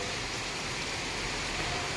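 Steady rain falling during a storm, a soft, even hiss of drops on surfaces with no pauses, fairly faint and continuous, with no one talking.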